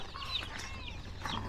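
Freedom Ranger meat chicken chicks, freshly arrived, cheep nearby in high, sliding peeps that overlap over a low steady hum.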